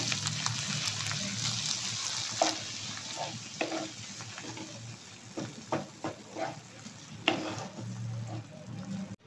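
Sweet corn tomato pasta gets stirred in a hot pan, with irregular spoon scrapes and clatters over a soft bubbling sizzle, close and moderately loud.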